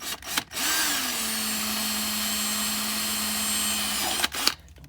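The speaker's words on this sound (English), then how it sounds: "we're drilling into aluminum" A power drill whines steadily for about three seconds at a constant pitch while drilling into aluminum on a jon boat, starting and stopping with brief clatters, close and loud.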